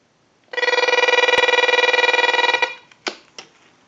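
On a Harris TS22 lineman's butt set, a steady buzzy telephone tone sounds loud and close for about two seconds, then cuts off, followed by a few sharp clicks.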